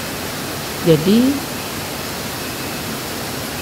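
Steady rushing roar of a mountain waterfall near Bedugul, Bali, a continuous broadband wash that stays even throughout, with a brief spoken word from a man near the start.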